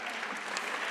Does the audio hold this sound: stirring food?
no